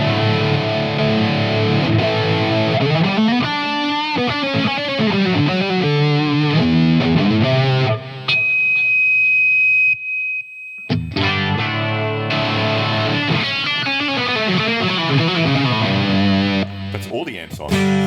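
Distorted electric guitar played through Fender Tone Master Pro amp models, heavy crunchy chords and riffs with effects, briefly dropping out to silence midway before resuming loud and close.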